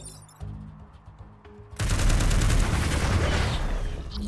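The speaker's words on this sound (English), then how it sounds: "We have to missile barrage first." A missile barrage launching in the turn-based strategy video game Into the Breach, a sudden loud roaring volley of overlapping blasts that bursts in after a quiet lead-in and sustains, rumbling and crackling to the end.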